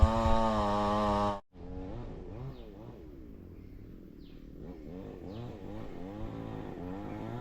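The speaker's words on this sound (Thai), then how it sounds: "ได้ยินเสียงเลยคือเขา ขึ้นมาตัดไม้ครับ" A chainsaw cuts wood nearby outdoors, droning loudly at first, then cutting out briefly and returning as a steadier, slightly fainter whine that rises and falls in pitch as it works.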